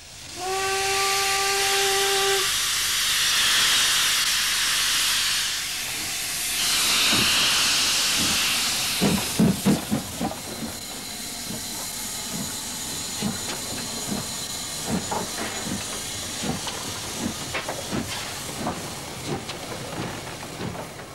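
A steam whistle sounds in a few short tones, then loud hissing steam takes over, followed by rhythmic chuffing and clanking as the Royal Scotsman's steam locomotive gets moving at Fort William, bound for Mallaig.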